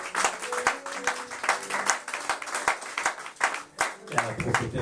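A church congregation applauds for Maman Emilie with brisk, dense clapping that rises and dips in waves, while a voice speaks over the applause.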